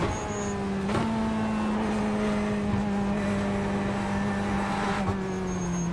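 GT3 race cars lapping Monza in iRacing: a steady, loud engine drone from the driver's car with shifting whine, brief gear-change dips and other cars' engines passing nearby.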